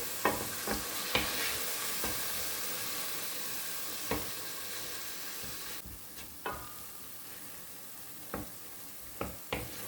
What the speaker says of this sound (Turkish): Şimdi bunları da güzelce kavuralım.